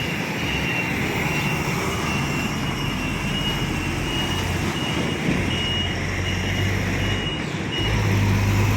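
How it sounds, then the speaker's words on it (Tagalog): Busy road traffic near Kaohsiung Airport in Taiwan gives a loud, unbroken roar of passing vehicles and heavy trucks, with a persistent reversing beep tone running through it and no voices. "Napaka-busy ang kalsada."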